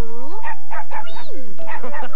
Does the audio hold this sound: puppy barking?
yes